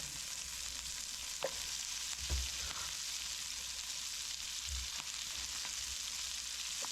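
Green pepper, onion and mushrooms frying in a pan: a soft, continuous sizzle with occasional light stirring knocks, fairly quiet and steady, no voices.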